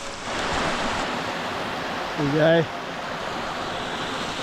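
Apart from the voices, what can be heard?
small creek cascade flowing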